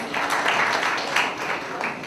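Sustained applause from an audience at a university orientation ceremony, dense clapping filling the hall steadily for a couple of seconds with slight swells, fairly close and loud.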